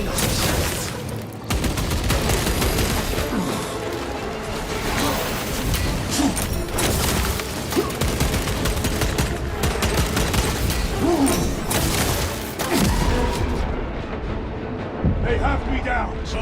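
Dense Space Marine II battle din: continuous gunfire, booming grenade blasts and mechanical clatter pour out without pause, loud and close, with in-game voices speaking over the chaos.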